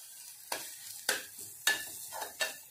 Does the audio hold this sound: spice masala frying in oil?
yes